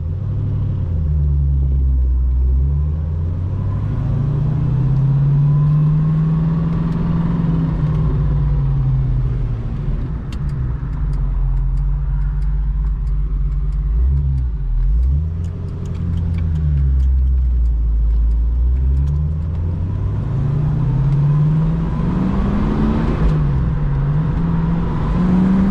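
Unrestored 1969 Shelby GT 350 four-speed convertible V8 driving, a loud steady rumbling engine note rising and falling through gear changes, close and continuous with no talk.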